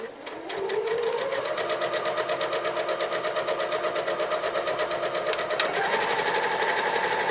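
Close and loud, a sewing machine hums in a long, even run of rapid stitches through fabric for a laptop bag, with a slight shift in pace near the end.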